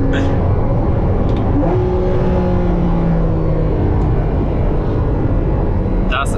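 A Porsche Cayman 981 with the 2.7-litre engine and PDK gearbox accelerates hard, a loud, close engine roar rising in pitch with quick aggressive gear changes, heard steadily from inside the car.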